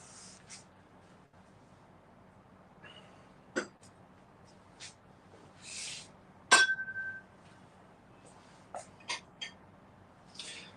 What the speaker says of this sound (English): I'm going to put this vase down.